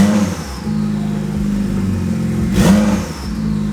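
A flooded BMW engine stuck in limp mode with no boost revs steadily, a loud droning mid-pitched hum that swells briefly near the end, no voices present.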